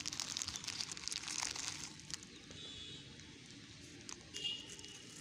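Crinkling, crumpling plastic litter being picked up from the ground outdoors during a morning nature cleanup, a close rustle heaviest in the first two seconds, then quieter scattered crackles with a brief burst near the end.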